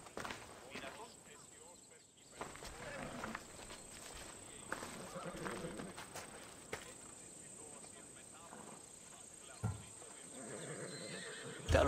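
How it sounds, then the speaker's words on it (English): A horse in Assassin's Creed Odyssey neighs and its hooves clip-clop nearby, while characters talk over the quiet game ambience. "Fine, but I'm taking a horse."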